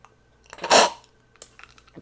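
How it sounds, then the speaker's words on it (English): One slight choking cough bursts out close and fairly loud, with a few small throat and mouth noises before and after it. "Make slight choking coughing noise."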